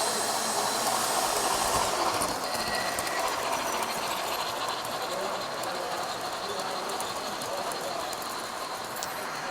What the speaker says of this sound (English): Comes the train across the big bridge.